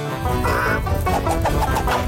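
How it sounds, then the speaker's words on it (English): In a cartoon, a loose chicken lets out a quick, loud run of clucks and squawks close up, with no talking over it. "Chicken on the loose!"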